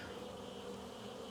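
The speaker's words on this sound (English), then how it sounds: "Oh, that's a weird rattle noise when the bees" Bees buzzing and rattling right against a camera microphone during a spring hive inspection, a steady close droning hum with a faint scratchy rattle, no voices.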